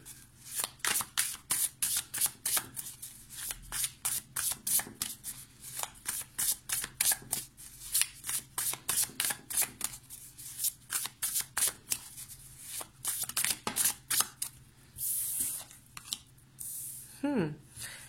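Tarot cards are shuffled and drawn at length, with rapid papery riffles and flicks repeating close by, broken by brief pauses and a few soft quiet words.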